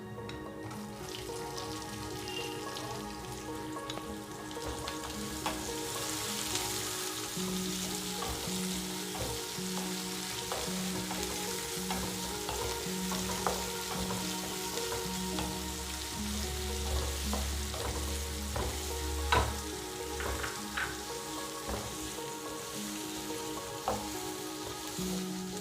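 Chopped shallots frying and being stirred in a pan of oil while making Chettinad kuzhi paniyaram, a steady close sizzle with occasional scrapes and clinks throughout.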